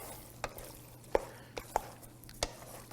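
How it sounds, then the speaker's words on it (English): Mac and cheese mixture being stirred with a utensil, a run of soft, sharp scraping clicks and knocks against the pot, fairly faint, with no speech. "Stir this up really good."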